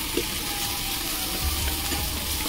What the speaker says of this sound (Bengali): তো এগুলো এবার হালকা একটু ফ্রাই করতে হবে।